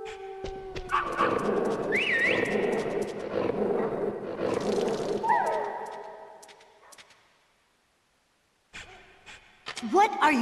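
Dogs bark in the Metal Gear Solid game on PS3, sharp bursts amid dense game music and effects, with a voice speaking over them; a fresh cluster of barks returns near the end after a brief lull.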